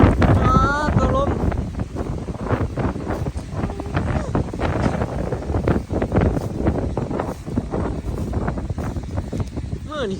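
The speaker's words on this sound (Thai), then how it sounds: "นี่คือลมกระเดียกระดอซะเนาะ" Strong wind gusts buffet the microphone outdoors on a very windy day, a loud rumbling roar that rises and falls. People talk in Thai beneath the wind.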